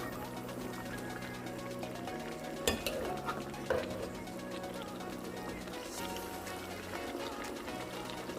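Curry goat being stirred in a pot with a utensil, the mixture softly sizzling and scraping steadily throughout, with a couple of sharper clinks of metal against the pot near the middle.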